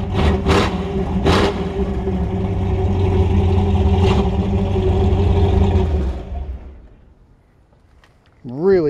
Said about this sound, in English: Really aggressive exhaust.